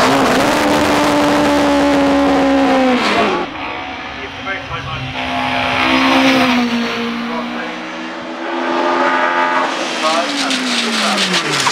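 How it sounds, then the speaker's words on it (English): A 2-litre Millington-powered OMS hillclimb race car accelerating away at Shelsley Walsh during the British Hillclimb Championship, its engine note rising through successive gear changes as it pulls into the distance, with a commentator talking throughout. "as Paul Sanford gets away with his 2-litre Millington-powered OMS."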